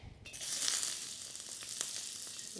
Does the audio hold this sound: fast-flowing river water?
no